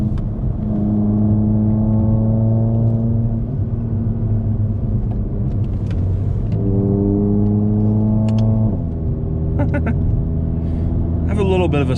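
A Volkswagen with a DSG gearbox drones loudly at steady revs, with distinct pitch drops as it shifts gears twice, the engine note echoing off roadside trees.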